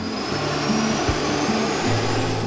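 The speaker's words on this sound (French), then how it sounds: "Écoutez le bruit quand le pilote lance les gaz." A loud, steady fighter jet engine roar throttling up, with a high whine running through it, constant and close, with no voices.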